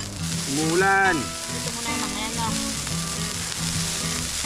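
Pork belly for samgyupsal frying in a pan by a river, a loud steady sizzle throughout, with a short voice-like tonal sweep near the start.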